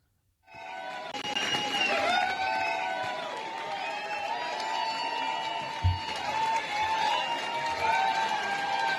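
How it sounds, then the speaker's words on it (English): A large crowd at a rally for Susan Crawford, heard as a recording: a broad roar of many voices swells in and holds steady, with cheering and shouts rising over the din. "I do want to at least play the crowd."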